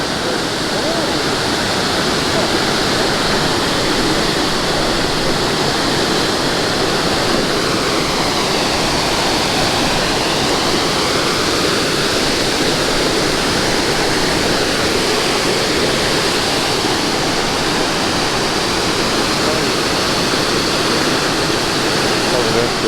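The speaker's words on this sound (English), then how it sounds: "I almost missed the waterfall." Steady, loud roar of a waterfall near Juneau, Alaska, a dense continuous rush of water that never lets up.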